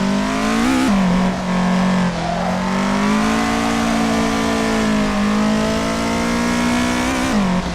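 Loud, close engine roar from a car in the Assetto Corsa racing game, heard from right beside the engine during drifting in a BMW M3 or Toyota AE86, a steady sustained drone with slight pitch shifts throughout.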